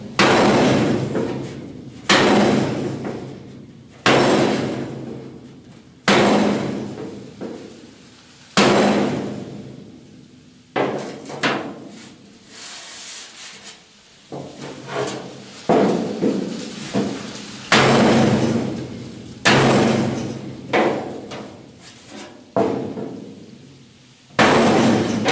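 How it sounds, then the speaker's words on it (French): A dented steel body panel on a Citroën Traction 11B being hammered back out against a wooden block, about a dozen loud, ringing metallic blows spaced a second or two apart, each fading slowly. "toujours muni d'une cale de bois, je vais repousser la bosse."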